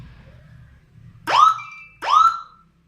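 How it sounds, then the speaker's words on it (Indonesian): A 12-tone electronic siren module sounds its first tone as two loud, separate whooping sweeps that rise sharply and then fall away. The sweeps play alone and close by, with only a faint low hum before them. "sirine dengan 12 suara"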